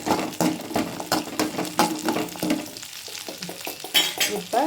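Tomato and other fish curry ingredients are sautéed in a pan, giving a close sizzle with repeated spoon scrapes and stirring strokes in an uneven rhythm that runs through the whole stretch.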